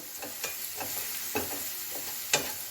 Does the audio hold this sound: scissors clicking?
no